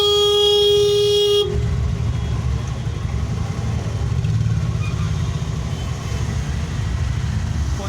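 A car horn blares in a long steady honk near Malad station amid a traffic jam, then cuts off into constant engine idling and dense street traffic rumble.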